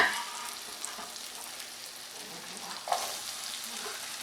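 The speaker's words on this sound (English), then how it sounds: "You want to hear that sizzling" Potatoes sizzle and crackle in an oiled pan for a potato hash, a steady close frying hiss with a brief stir or clatter near the end and no talking.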